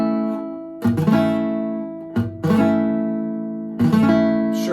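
Strummed guitar chords ring out in three bursts, each shape change leaving rattly, unclear strings with brief muted gaps between them, played without stopping.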